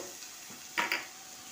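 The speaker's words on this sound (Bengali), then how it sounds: "এতে মশলা দিলাম, ভালোভাবে নাড়িয়ে নিয়ে" Spices are stirred into vegetable chowmein frying in a pan, a soft continuous sizzle broken by two quick, close scraping strokes of the spatula.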